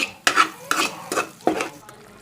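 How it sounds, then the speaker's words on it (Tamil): A utensil scrapes and stirs chicken gravy with water in a pan in four distinct strokes, with wet, slightly sizzling texture between them and no talking. "அதை தண்ணியோடு வச்சு நல்லா மிக்ஸ் பண்ணிடுங்க."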